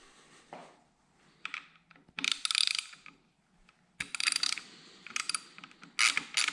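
A hand tool loosens two 4mm bolts on a Yamaha MT-07 throttle cover in short bursts of rapid ratcheting clicks separated by pauses, close up and crisp.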